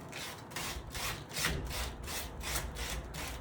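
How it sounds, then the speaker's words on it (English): Folded sandpaper rubs back and forth across a wooden front door, a soft, rhythmic scratchy stroke repeating about every half second at close range. "I fold my sandpaper and go like this, trying to remove as much as I can"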